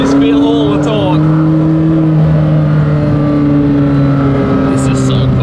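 A McLaren Senna GTR race car drives with a loud, steady engine drone that shifts slightly in pitch, heard from close by throughout with a constant rumble and no break.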